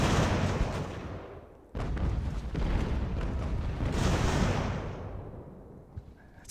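Sailing warships trade cannon fire in Ultimate Admiral: Age of Sail, with dense, rolling booms overlapping into a continuous roar that drops out briefly, then resumes before fading.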